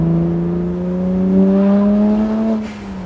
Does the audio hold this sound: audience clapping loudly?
no